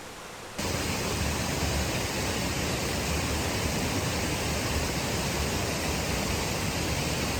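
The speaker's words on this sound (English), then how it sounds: "We are now at the top of Donut Falls and we've looked over the waterfall." Waterfall at Donut Falls, Utah, a steady, loud, broadband rush of falling water that starts abruptly after a brief quieter moment and then holds constant and close, with no voices.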